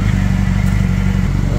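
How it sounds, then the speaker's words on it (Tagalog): Motorcycle engine idling loudly and close by, a steady low throbbing rumble as the bike is wheeled out of a Japanese home garage. "Ganun pala paglabas ng motor nila, guys."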